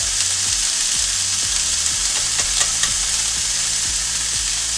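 Fish frying in a Teflon pan, a steady crackling sizzle with faint spatter and occasional soft pops, close and continuous with no voices.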